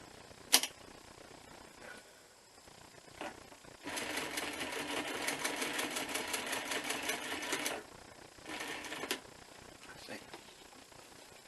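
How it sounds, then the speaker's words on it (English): A sewing machine stitches a bushcraft working vest, a rapid mechanical clatter running steadily for about four seconds and then again in a shorter burst, with quieter handling noises and clicks between. "that means I can sew this side twice and that side twice"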